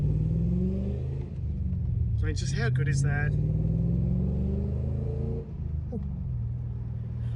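A Holden VT Clubsport 5.0L V8 idles with a deep, steady, loud rumble throughout while someone talks over it.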